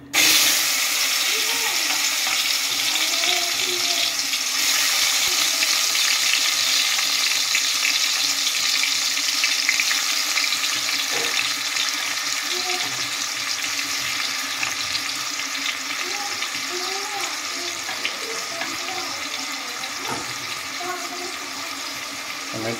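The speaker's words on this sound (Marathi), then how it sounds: "गरम झालं तेल, त्याच्यामध्ये आपल्याला डायरेक्ट टमॅटो टाकायचा आहे" Tomato goes into hot oil for a crab curry, and a loud, steady sizzling hiss holds throughout, easing off slightly toward the end.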